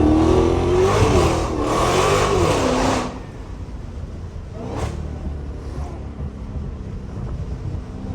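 A Dodge Hellcat's engine revs hard under a city tunnel, a loud rising and falling roar for about three seconds that cuts off sharply, followed by a lower rumbling idle, a brief blip and buffeting wind noise.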